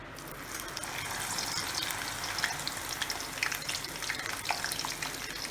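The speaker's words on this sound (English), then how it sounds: "you have to deep fry all your vegetables you are using for this recipe, and for that you need a lot of oil in your pan" Okra deep-frying in plenty of oil in a pan for a wedding-style tawa sabzi gives off a steady, loud sizzle with crackling pops and bubbling throughout.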